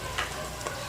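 Onions frying in a pan for Rayalaseema-style rice and chicken curry, a quiet, steady sizzle with a couple of soft stirring scrapes.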